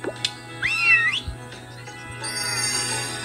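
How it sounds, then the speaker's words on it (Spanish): Cartoon cats in the Hay Day farming game give short, high, sliding meows as they are woken, one bright whistly call standing out over soft game chimes and a steady background tone. "Vamos a despertar estos gatitos ahorita que andamos por aquí."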